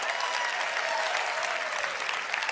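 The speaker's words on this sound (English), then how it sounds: "Give yourselves a round of applause." An audience gives steady, dense applause at a large venue event, the clapping sustained and even throughout.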